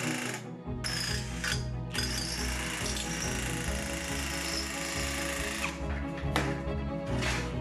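Electric drill fitted with a nibbler cutter head notching the metal top of a homemade biomass stove, a loud continuous grinding, rattling chatter that runs almost unbroken throughout.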